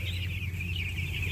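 Young chicks, one to four days old, on a poultry farm give a continuous high-pitched chorus of peeping and soft clucking over a low steady hum, with no one speaking.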